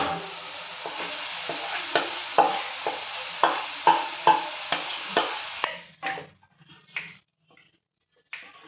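Cooked rice is stirred into sautéed mint leaves in a pan: a run of rhythmic spoon scrapes and taps over a soft sizzle, about one stroke per half second, then a few slower, isolated knocks once the frying fades.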